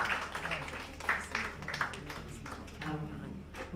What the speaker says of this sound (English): A round of applause again for her.